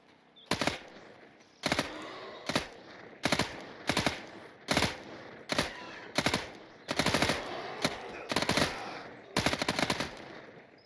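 Bursts of rapid automatic gunfire in the video game Fear the Night, a dozen loud close rattling volleys separated by short pauses, with no talking.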